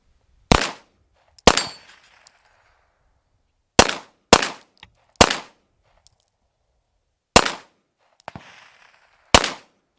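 Seven sharp, loud pistol shots from a CZ TS 2 fired outdoors, spaced irregularly about a second or more apart, each a crisp crack followed by a brief ringing decay, with no talking.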